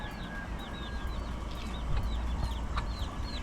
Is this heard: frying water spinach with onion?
no